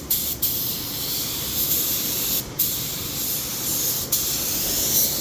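A spray gun hisses steadily while priming repaired spots on a truck body, a continuous airy spray broken by a few brief pauses as the trigger is released and pulled again.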